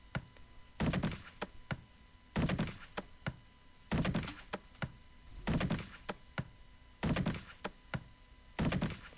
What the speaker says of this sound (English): A loud thump answers Zdrada's question, quickly followed by another, then another.